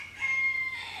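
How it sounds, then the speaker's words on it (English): A single rooster crow, drawn out and fairly clear, rising then trailing off, heard in the background with no talking. "Pardon the roosters in the background"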